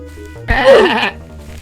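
A sheep in the Minecraft video game gives a single loud, wavering bleat in the middle, against quiet game background sound.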